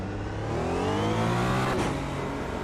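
A Porsche GT1 race car in the Automobilista 2 racing game at Spa 1993, its engine climbing in pitch under acceleration with a turbo whine layered on top, loud and close throughout.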